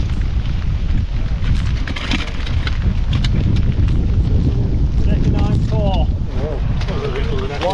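Wind gusting across a fishing lake during an open match, a steady rough roar buffeting the microphone throughout, with voices talking faintly underneath near the end.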